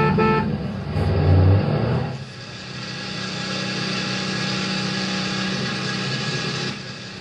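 A cartoon school bus rumbles along with a motor drone, giving a couple of loud horn toots at the start before settling into a steady engine hum that continues to the end.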